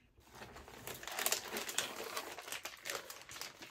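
Plastic bags being handled at close range give a continuous crinkling rustle, louder in the middle and ongoing through the whole stretch with no talking.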